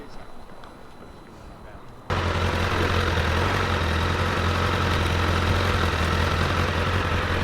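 A motorcycle engine at a Honda bike meet fires up after a short stretch of background chatter and then idles loudly and steadily nearby, with a deep, constant rumble.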